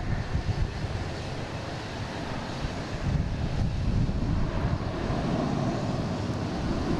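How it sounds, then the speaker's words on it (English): A JetBlue Airbus A321 takes off from Boston Logan International Airport, heard as a steady broadband jet roar with wind noise, holding at a constant moderate level throughout and growing slightly louder partway through. "we got a JetBlue taking off, an A321 heading to San Juan."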